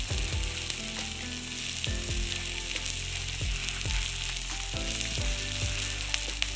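Sprouted beans stir-fry in a hot pan for a healthy thoran, loud continuous sizzling broken by regular scraping strokes of a spatula, close and alone.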